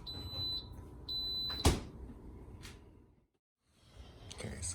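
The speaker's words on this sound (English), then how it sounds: "Okay, so the alarm just went off." An Instant Pot pressure cooker alarm beeping while kitchari cooks: two short, thin electronic tones over a low kitchen hum, then a sharp clunk, a brief hush, and background noise returning.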